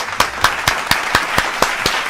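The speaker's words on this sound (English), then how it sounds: "Man, clap it up for Tariq." Steady rhythmic hand clapping, about four claps a second, sharp and close, repeating evenly without any talking over it.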